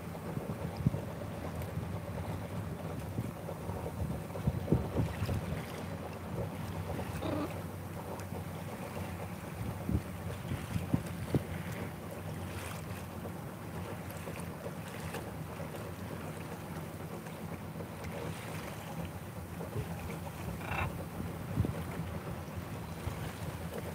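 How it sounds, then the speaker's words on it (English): An electric boat motor runs at nearly full power on the Intracoastal Waterway, a steady low hum and whir under wind noise and water wash, continuous and fairly quiet throughout. "So the sound you hear right now, the background sound, is our motor going pretty much all out."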